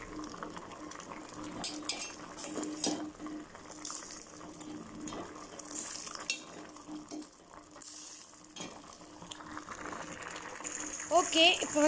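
Vegetable soup stirred with added pepper in a pot, spoon clinking and scraping against the metal with liquid sloshing, moderately close, while a voice talks over part of it.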